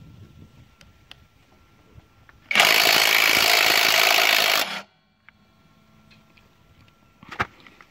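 A cordless impact wrench on a 1/2 inch nut gives one steady, loud two-second burst of rapid hammering, with quiet shop sounds and a few light knocks before and after.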